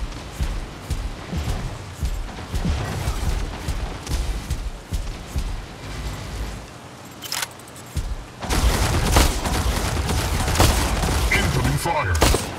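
Gunfire in the robot combat game Mech Arena, with a sniper Longarm rifle, crackles as dense volleys and thuds under a steady game soundtrack, brief pause near the end, then a louder, sustained burst of firing and impacts.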